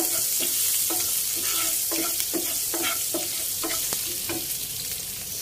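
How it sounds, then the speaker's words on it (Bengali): Red chicken pasta sauce with sugar and ground black pepper stirred in a hot pan, a loud steady sizzle with rhythmic spatula scrapes and taps close by, with no voices. "এখন ভালোভাবে নেড়ে নিচ্ছি"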